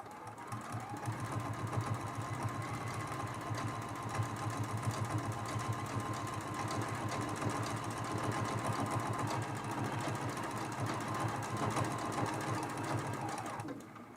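A sewing machine stitches a quilt-as-you-go block and its sashing, running steadily and continuously for about fourteen seconds with a fast, even mechanical chatter, close and alone without talk.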